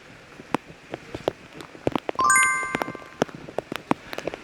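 Steady rain patters on a boat trip at Coiba Island, Panama, with scattered drops tapping nearby, and a brief bright metallic chiming rings out partway through.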